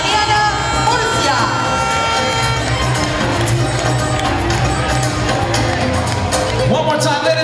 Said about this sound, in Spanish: El aplauso para despedir a Miss TriState, Tatiana Murcia.